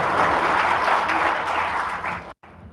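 Audience applause at a lecture event on administrative service, a dense wash of clapping filling the room for over two seconds before cutting off abruptly.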